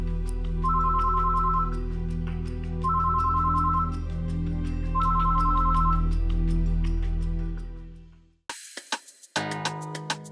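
A telephone rings after a number is dialed, repeating a two-tone electronic trill in evenly spaced bursts over a sustained musical backdrop before it cuts out abruptly.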